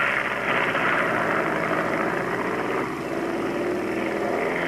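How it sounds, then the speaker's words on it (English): A loud Chevy-powered drag racing motorcycle engine drones steadily down a quarter-mile strip at a 1970 Bristol drag race, a continuous rumbling roar with no voices. "Watch that Chevy-powered motorcycle as he makes his way down to 1320."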